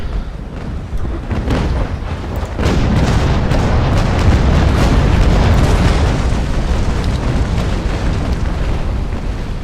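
Ship cannon fire and explosions in the naval battle game Naval Action, a loud sustained roar of booming blasts that swells and stays heavy, with no talking.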